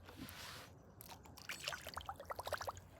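A frog fishing lure with a blade tail zips across the water surface, giving a quick series of bright, rapid plopping splashes after a brief hiss, close and fairly loud.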